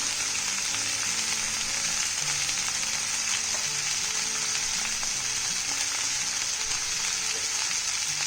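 Potato slices for masala potato fry crackle on a high flame in a steady, dense, hissing sizzle that carries on without a break, close and fairly loud.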